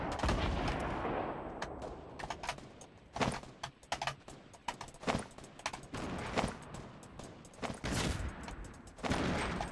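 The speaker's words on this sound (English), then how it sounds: "nice explosion" Gunfire and explosions in a Fortnite match, with rapid bursts of shots and sharp cracks crowding together, some close and punchy, others more distant, over several seconds at modest level.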